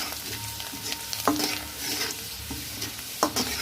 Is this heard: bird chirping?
no